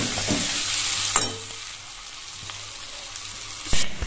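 Water goes into a pan of frying masala with potatoes and eggs for an egg curry, producing a steady close sizzle with stirring scrapes, rising into a sharper hissing burst near the end.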